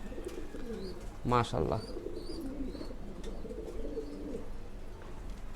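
Pigeons in a pigeon house coo in low, rolling calls throughout. A person speaks a brief word partway through, and louder coos overlap it.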